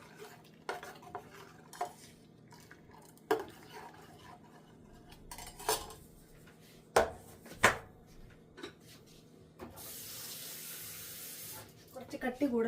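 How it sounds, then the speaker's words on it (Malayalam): Water runs in a steady stream into a cooking pot for an energy drink of mixed nuts, a short pour near the end after scattered clinks and knocks of utensils in a quiet kitchen. "ഞാൻ കുറച്ച് വെള്ളം കൂടി ഒഴിക്കുവാണ്"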